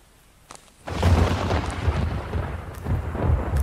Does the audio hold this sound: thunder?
yes